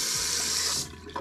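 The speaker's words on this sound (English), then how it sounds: "You can choose between like spray or just like a flow of water." Water hissing from a spray nozzle at a bathroom sink-style fixture in an Osaka apartment, a loud close steady spray that softens into a gentler flow near the end.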